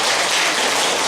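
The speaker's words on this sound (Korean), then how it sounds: "우리 크게 박수를 좀 쳐주시겠습니다." A church congregation applauding loudly, a dense, even wash of many hands clapping that fills the room without a break, with no talking on top.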